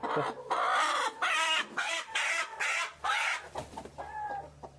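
A hen clucks close up in a run of loud, drawn-out squawking bursts, then a low rumble and softer clucks follow.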